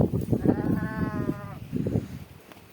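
A single wavering sheep bleat rises over low rustling and shuffling nearby from a grazing flock, followed by softer background movement.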